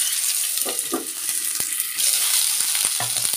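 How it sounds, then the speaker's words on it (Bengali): Food frying in a pan with a steady sizzle, broken by a few short scrapes and knocks of a spoon stirring it, close by with no talk. "এই যে কেমন লাল লাল ভাজা ভাজা হয়ে গেছে না?"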